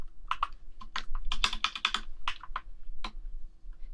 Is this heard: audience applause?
no